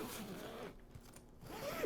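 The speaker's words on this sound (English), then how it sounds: "I can go ahead and zip it up" A family cruise suitcase is zipped shut, giving a quick close ripping rasp in two short pulls, a brief pause between them.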